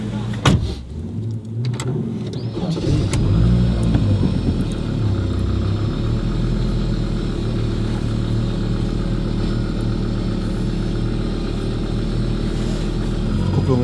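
Audi Sport Quattro by LCE pulling away, its engine rising to a steady loud drone heard from inside the car after a few clicks and knocks at the start.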